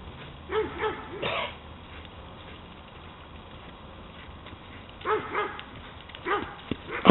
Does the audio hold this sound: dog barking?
yes